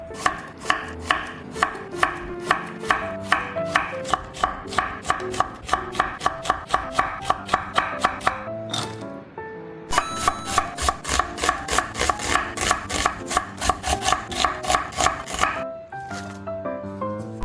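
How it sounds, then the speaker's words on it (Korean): Rapid, steady knife chops on a cutting board as half a zucchini is julienned into thin strips, with a short pause in the middle, close and clear with no talking. "애호박은 한 반 개 정도만 쓸 거고요. 좀 얇게 채쳐줄게요."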